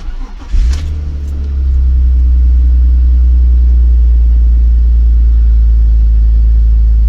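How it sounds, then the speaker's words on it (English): A BMW 330i E46 engine cranks and catches after an oil change, then settles into a steady, loud low idle that rumbles on without a break. "Now start the engine up."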